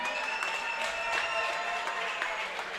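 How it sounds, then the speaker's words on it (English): Audience applause at a fight night on a reality series premiere, a dense, sustained clapping crowd with a few whoops carried over the continuous roar. "Give yourselves a round of applause,"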